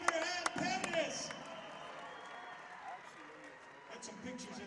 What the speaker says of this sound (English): Ladies and gentlemen, big round of applause right here.